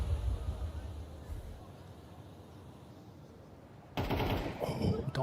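Automatic gunfire in a Counter-Strike match, a continuous rattling stream of shots that surges louder after a short lull, with match commentary talking over the action.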